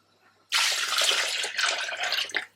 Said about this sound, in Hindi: अब यहाँ पर आप इसमें ऐड करेंगे पानी।